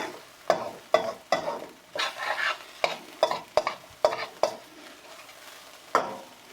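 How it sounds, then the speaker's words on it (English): Keto pork fried rice is stirred and tossed in a hot sizzling pan, with sharp spatula scrapes and clanks landing in an uneven rhythm over a steady frying hiss, close and alone. "I'll stir this from this far"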